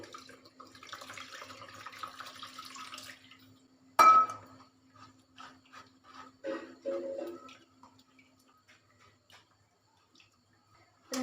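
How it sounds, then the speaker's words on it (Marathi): A short trickle of water being poured into ground sesame seeds to draw out sesame milk, then a sharp clink and some wet sloshing and dripping in a quiet room. "मध्ये अजून थोडं पाणी घालूया"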